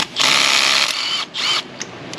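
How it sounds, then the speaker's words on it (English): A 1/4-inch air gun rattles in bursts while backing bolts out of a 2003 Ford Mustang GT 4.6 engine: one long buzzing run, a pause, a second shorter burst, then two brief taps, all close. "let's see if the 1/4-inch gun will pull these bolts out of here"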